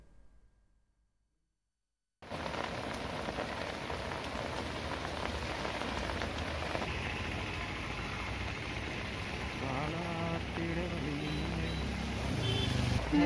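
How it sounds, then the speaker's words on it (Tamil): Heavy summer rain with thunder and lightning in Tamil Nadu, a dense steady hiss of downpour that starts abruptly after a short quiet lead-in and stays loud and constant, with a faint engine-like rumble underneath. "இடி மின்னலுடன் பலத்த மழை பெய்தது."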